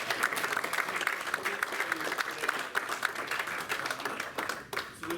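Audience applause at a live business and real estate seminar in Hawaii, a dense sustained wash of many hands clapping steadily throughout, fairly loud with some scattered louder claps.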